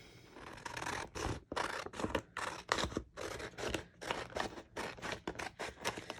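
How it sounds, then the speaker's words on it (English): Scissors snip out a Fall Festive transfer sheet for a dried wildflower and harvest double-sided sign, a close, steady run of crisp paper cuts with short pauses between strokes. "let me cut this out."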